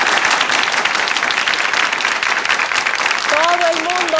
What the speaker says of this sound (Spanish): Yo quiero el mismo aplauso que se le dio a este hombre cuando entró en el set,